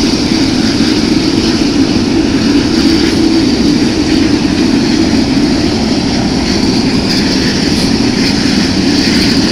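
An Emirates Boeing 777-300ER airliner during pushback, its jet engines giving a loud, steady whine and roar that stays constant from start to finish with no talking.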